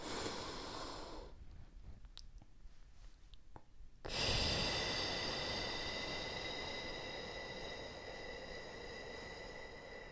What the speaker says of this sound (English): Let's go ahead and take a couple deep breaths.